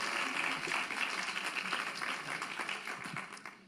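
Women in an audience applaud during a talk, producing a sustained round of clapping at moderate level that tapers slightly toward the end, with no speech over it.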